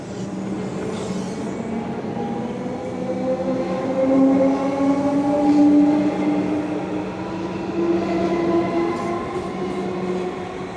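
A Frankston line suburban train pulls out of South Yarra station, its steady rumble and rising motor whine filling the platform for about ten seconds, loud and close with no talk over it.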